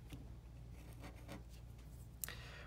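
A hex digit, the letter B, is written by hand, giving a few faint, close scratchy pen strokes over a low steady hum, with a sharp tap near the end.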